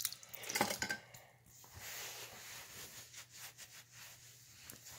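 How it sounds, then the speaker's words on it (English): A hand rinsed under a running tap, with a quiet, steady splash of water and a few faint clinks near the start. "Just rinsing my hand."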